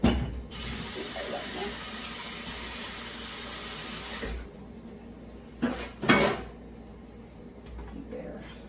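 Food rinsed under a running kitchen tap during stew and mac and cheese prep, a steady loud rush of water for about four seconds, then quieter clinks and handling noises.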